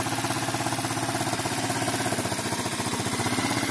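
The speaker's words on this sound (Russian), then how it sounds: "Производитель Racer, 250-кубовый мотор с балансировочным валом," A Racer RC250GY-C2A budget enduro motorcycle with a 250cc four-stroke engine and balance shaft idles nearby, a steady, even low thrum with a fast regular pulse and no talk over it.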